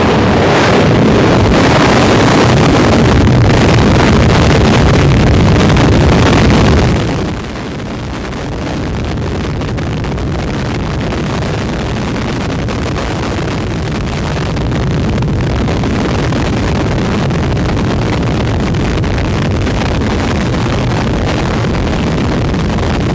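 A Space Shuttle main engine test firing at the Stennis test stand, a massive broadband roar that is very loud at first, then drops to a steadier, slightly lower rumbling blast that continues to the end.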